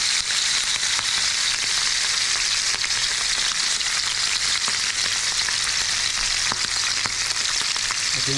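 A salmon steak fries in hot oil, a loud, close, unbroken sizzle that crackles steadily throughout with no one speaking.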